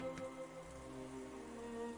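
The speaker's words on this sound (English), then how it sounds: "with the quiet sound of the never-ending wind and rain" Faint, steady wind and rain ambience from the video game Umineko When They Cry: a soft continuous wash with a low hum underneath, quiet and unbroken throughout.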